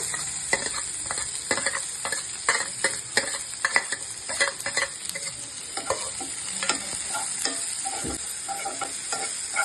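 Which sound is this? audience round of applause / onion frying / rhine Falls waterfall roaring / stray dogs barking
onion frying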